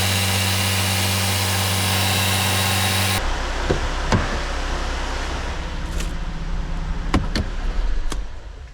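An automatic-transmission car engine idles loudly and steadily, then cuts off abruptly, leaving a quiet room with a few faint clicks and knocks from work on the vehicle.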